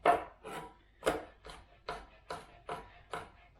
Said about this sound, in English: So I'm just going to cube up half of it, and the other half I'm going to chop into little ribbons.